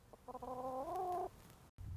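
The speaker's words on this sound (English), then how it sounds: "Tushpa, the chicken" A chicken in a front garden gives one drawn-out, clucking squawk lasting about a second, close and clear over faint background noise, then falls quiet.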